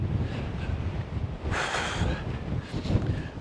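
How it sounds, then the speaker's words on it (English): Wind gusts across a barley field outdoors, buffeting the microphone with a low, rumbling rush that swells into a stronger gust midway, with no voices. "The wind is actually trying to blow my hat off."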